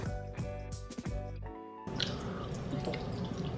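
Almond milk drips and trickles steadily through a strainer into a container nearby, a soft continuous splattering that shifts partway through into a broader, busier pour.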